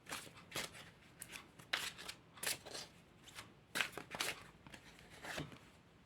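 Tarot cards being shuffled by hand, a run of short crisp riffling bursts and soft card slaps spaced irregularly, close and fairly quiet, with no talking.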